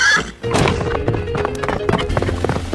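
A horse whinnies briefly, then hooves thump and bang repeatedly against a stable door, loud and close, with a clattering series of knocks and thuds.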